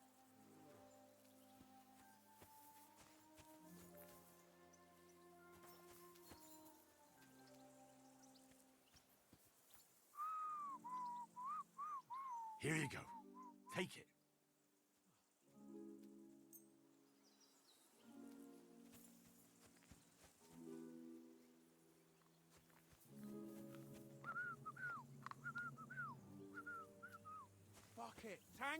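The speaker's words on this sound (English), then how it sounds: "Your whistling is getting..." A player character whistles a melodic tune in the medieval video game Kingdom Come: Deliverance 2, in clear stretches between bursts of game noise, with a brief line of spoken dialogue and background sounds around it.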